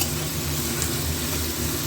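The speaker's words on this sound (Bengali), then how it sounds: "এবার এটা একটু ভাজা ভাজা হোক, নাড়াই চাড়াই" Upma fries in a pan while being stirred, a close, steady sizzle with soft scraping running throughout.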